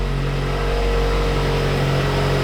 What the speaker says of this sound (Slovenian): Avto še kar dela.